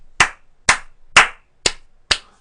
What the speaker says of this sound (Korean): 이거 박수 쳐줘야 돼요, 여러분.